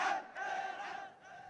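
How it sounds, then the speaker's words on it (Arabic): Roar of crowds protesting and demanding the regime's departure during Yemen's 11 February revolution, a moderately distant, sustained mass of chanting voices that swells and dips briefly before rising again. "وانطلق هدير الجماهير المطالبة برحيل النظام"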